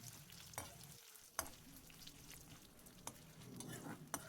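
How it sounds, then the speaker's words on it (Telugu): Dried red chillies frying in oil in a pan for curry leaf thokku, with a steady sizzle and occasional sharper stirring scrapes and pops, close and continuous, no voices. "ఈ ఎండుమిరపకాయలు కూడా మంచి కలర్ వచ్చే వరకు ఫ్రై చేసుకోవాలి."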